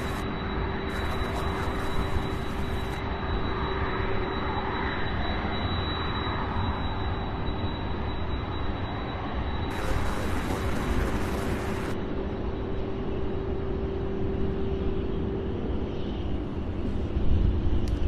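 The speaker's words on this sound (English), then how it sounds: "Absolutely beautiful takeoff. That MD-11 heading to Denver, Colorado, UPS 2806." A UPS MD-11 freighter taking off from Louisville bound for Denver and banking left, a steady, moderately distant jet roar and rumble with a sustained tone that swells slightly near the end.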